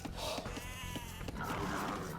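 Sheep in the Age of Empires 2 video game bleat in a wavering, mid-pitched call, with short game clicks and effects around it in a busy match.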